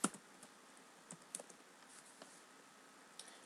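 Someone typing HTML on a computer keyboard, soft scattered keystrokes at an irregular pace, one sharper click at the start and faint taps after, close and quiet with no talking.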